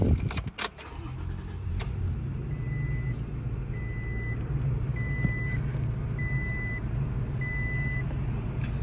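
A 2020 Toyota Tacoma TRD Sport cranks and fires up near the start, then settles into a steady low idle, with a repeating electronic chime pulsing over the engine.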